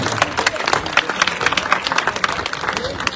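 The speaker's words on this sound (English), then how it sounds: "Go ahead, clap for that" A crowd at an outdoor political rally at a state capitol claps in brisk, uneven bursts, many hands close by, with some voices mixed in.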